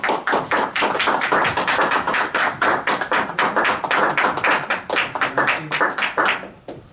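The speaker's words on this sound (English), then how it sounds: "Please give a round of applause for Justine." An audience at a Toastmasters club meeting gives a round of applause, brisk crisp clapping from a small room crowd, steady for several seconds before thinning and fading out at the end.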